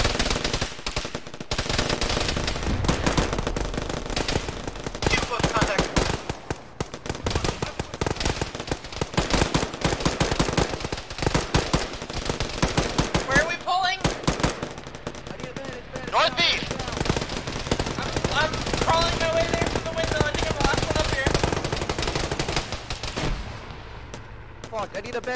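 Dense gunfire in the military video game Arma during a ShackTac squad firefight: sustained rapid automatic bursts and heavy booming shots crowding together near and loud, with radio-style voices talking underneath.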